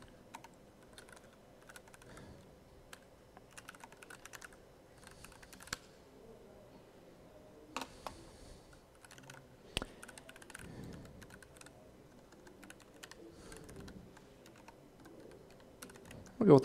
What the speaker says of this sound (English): Wow, keyboard.